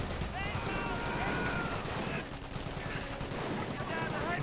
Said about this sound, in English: Nebula barrage somewhere.